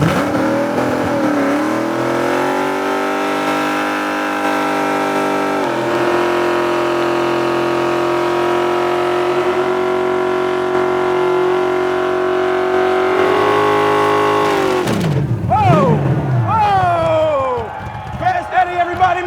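At the 2019 AmericanMuscle Mustang car show burnout competition, Fast Eddie's car holds a loud, high, steady engine rev for about fifteen seconds before it drops off, and crowd noise and shouting rise as it ends.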